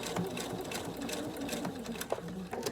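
A sewing machine stitches fabric coasters in quick rhythmic bursts of needle clatter, close by and fairly soft, with brief pauses and faint clicks.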